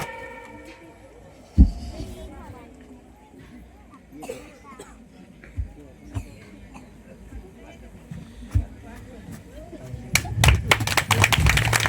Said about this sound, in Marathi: त्याला जोरानं टाळ्या होऊ द्या.